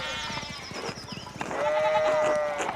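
Sheep bleat in a medieval village scene in the game Pentiment, several wavering cries rising over one another close by, one long steady bleat near the end.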